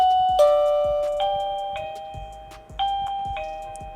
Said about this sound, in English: let's see what the doorbell sounds like.